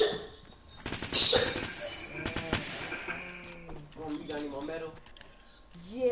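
Bursts of rapid gunfire aimed at a target in a video game, sharp clusters of shots heard mostly early on, mixed with people talking and bleating-like vocal sounds throughout.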